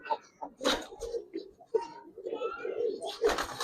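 Giribaz pigeons coo softly in short, throaty bursts close by, mixed with a voice talking over them.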